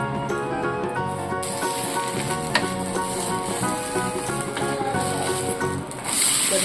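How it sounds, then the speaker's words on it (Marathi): Finely chopped chillies sizzle and fry in a pan while being cooked, a continuous close, bright crackling hiss with a faint steady hum underneath, swelling slightly louder near the end. "बघा वरून मी ते बारीक चिरलेली मिरची"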